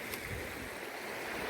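Water of the Virgin River rushing past near the Babylon ghost town, a steady, even wash of broadband flow with no one speaking.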